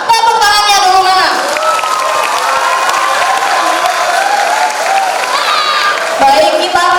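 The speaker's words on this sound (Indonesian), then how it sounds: "Tepuk tangannya dulu mana?" Students at a school assembly for a student council election clap and cheer in a loud, continuous burst, with a voice speaking over the crowd at the start and again near the end.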